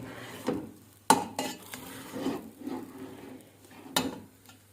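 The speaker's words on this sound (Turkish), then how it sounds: "İyi bir şekilde karıştırmak gerekiyor." Thick köle dough is stirred hard in a pot with a spoon, giving irregular close scraping and knocking with a few sharp clacks of metal against the pot over several seconds and no talking.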